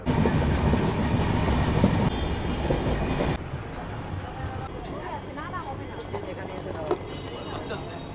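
A passenger train runs with a loud, rumbling rattle that drops to a quieter rolling clatter partway through, while a voice talks over the sound.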